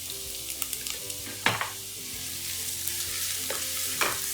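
Finely minced garlic and ginger frying with browned onions in a pan, a steady close sizzle punctuated by scraping stirs and small clinks of a utensil.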